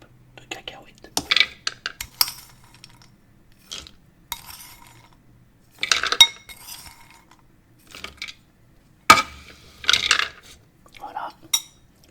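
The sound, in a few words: peanuts spooned into a bowl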